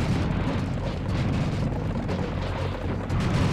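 Explosions and clattering bones dropping from Kleer skeletons in Serious Sam, a continuous heavy rumbling roar of blasts with scattered crackling impacts, loud and sustained.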